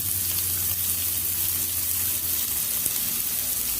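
Onion and capsicum fry in a pan for spicy lemon rice, giving a continuous, fairly loud close sizzle with a low steady hum underneath and no speech.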